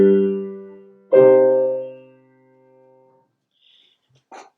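Two sustained chords in a minor key ring out one after the other, each struck cleanly and left to fade, with no other sound around them.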